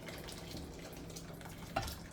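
Hot water from a tea kettle is poured into a pot of soup, making a soft, steady liquid wash close by, with a small splash near the end and no voices.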